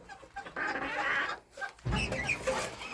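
A young chick peeps near a brooding hen on a farm, a series of high bright cheeps in two bursts separated by a short pause, close and clear, with faint barnyard clucking in the background.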